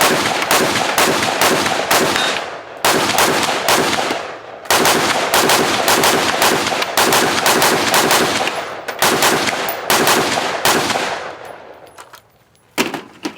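Law Tactical ARIC rifle firing strings of rapid, loud close-range shots with short pauses between bursts, the last rounds trailing off before the action locks open, no voices heard.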